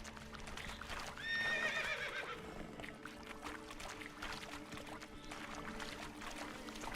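Roach the horse running in The Witcher 3, a steady clip-clop of hooves under a dense game soundscape, with a clear whinny early on.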